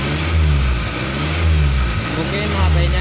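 A car's EFI petrol engine runs loud and close as a scan tool actuates the idle speed control, the revs swelling and easing in slow surges over a steady engine drone, with speech faintly present underneath.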